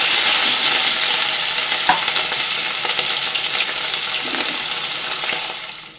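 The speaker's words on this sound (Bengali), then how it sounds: "এবার মাছগুলো রুই মাছগুলো এক এক করে ভেজে নিচ্ছি" Pieces of rohu fish fry in hot oil, making a loud, dense, crackling sizzle that holds steady and fades near the end, with a few faint utensil knocks underneath.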